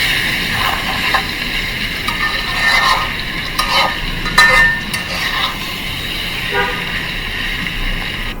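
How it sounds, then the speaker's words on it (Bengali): Green tomatoes frying in a pan over medium-high heat, a loud continuous sizzle with intermittent stirring scrapes and a few sharper clinks, faint background voice at moments. "একটু সময় নিয়ে চুলার জালটা মিডিয়াম থেকে একটু হাই দিয়ে ভাজতে হবে"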